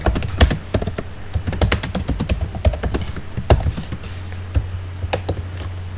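Rapid clattering keystrokes on a computer keyboard while a Python program is written, uneven bursts of close, crisp taps over a low steady hum, with no talking.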